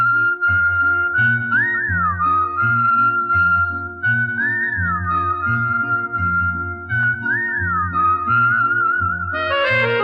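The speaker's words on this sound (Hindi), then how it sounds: "सीटी ज्यादा बजाती है।" A woman whistles a melody in a film song, the tune rising and falling in repeated phrases over steady rhythmic music and bass throughout.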